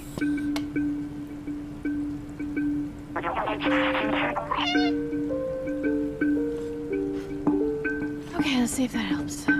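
A cat meowing in the video game Stray, a few short meows standing out over a steady game soundtrack with tonal music and ambient drips.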